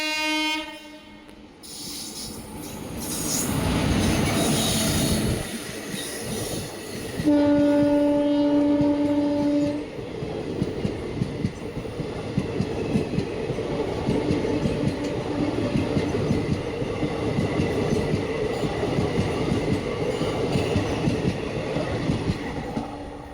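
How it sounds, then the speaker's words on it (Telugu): Vasco da Gama Express passenger train pulling away from a station platform, a long loud horn blast near the start giving way to steady rumbling and rhythmic wheel clatter on the rails. "ట్రైన్ కూడా స్టార్ట్ అయిపోయింది"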